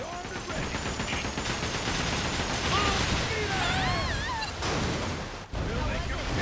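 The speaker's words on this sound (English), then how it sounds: "Cannons armed and ready!" Cannons boom in a pirate video game amid a busy mix of blasts, crackling and whistling effects, loud and continuous, with a voice talking over part of it.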